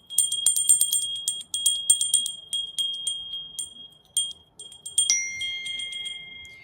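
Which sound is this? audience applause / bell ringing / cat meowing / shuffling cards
bell ringing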